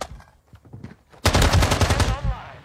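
Automatic gunfire bursts out in a Modern Warfare II beta match, a rapid sustained volley following a quieter stretch of scattered clicks and faint in-game sounds, loud and close before trailing off.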